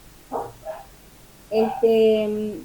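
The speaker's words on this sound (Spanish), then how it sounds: "los perros están bochiceros" Dogs bark in the background of a spoken interview at home: two short yips, a pause, then a longer whining bark. The sound is fairly close and moderately loud.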